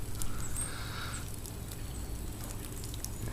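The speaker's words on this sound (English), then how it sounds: "It is raining." Rain falls on a dreary March day outdoors, a steady, faint patter and hiss with no breaks and no voices over it.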